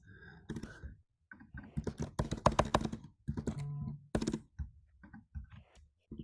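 Keys clatter on a computer keyboard in quick irregular bursts with short pauses between them, clear and close.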